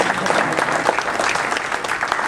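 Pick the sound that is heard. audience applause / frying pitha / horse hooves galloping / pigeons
audience applause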